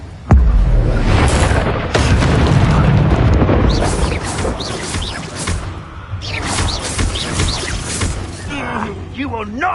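Confringo fire-blast spell explosions from the Hogwarts Legacy video game on PS5, a loud opening boom followed by sustained roaring blasts and whooshing bursts in a battle, with combat voices calling out over the din.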